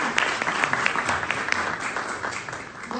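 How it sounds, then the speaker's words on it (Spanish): Crowd applause at a conference lecture in Peru fills the space, a dense steady patter of many hands clapping at moderate loudness, with no pauses across its length. "Fuertes aplausos para ella"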